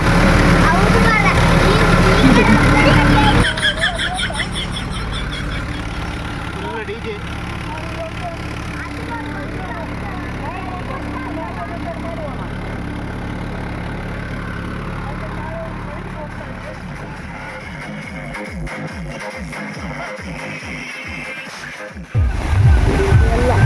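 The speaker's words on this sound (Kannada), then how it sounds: "ಗದ್ದೆ ಉಳ್ತಾ ಇದ್ದೇವೆ, ಟ್ರ್ಯಾಕ್ಟ್ರಲ್ಲಿ ಇದ್ದೇವೆ ನೋಡಿ." Tractor ploughing a muddy paddy field in rain, its engine chugging steadily with watery churning, then a rapid rhythmic knocking toward the end; people talk over it throughout, loudly at the start and finish.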